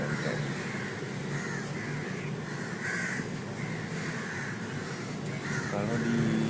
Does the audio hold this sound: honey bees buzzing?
no